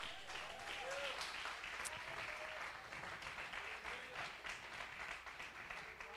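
A congregation at a Nazarene church service applauds with faint, distant, steady clapping, mixed with scattered voices and brief vocal calls.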